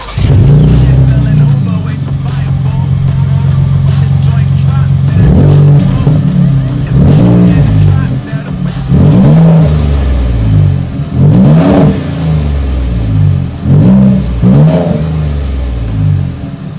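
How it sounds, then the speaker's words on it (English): A 2020 Ford Raptor's dual exhaust starts at a loud, steady idle, then gets a string of sharp revs that rise and fall at roughly two-second intervals, all close and strong. "As always, here is that exhaust clip"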